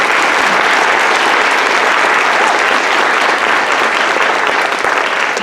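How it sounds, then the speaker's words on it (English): Steady applause from the audience at a university English department convocation, honoring the award recipients, holding loud and even from start to finish without a break. "Please give a large round of applause to all the recipients of these wonderful awards."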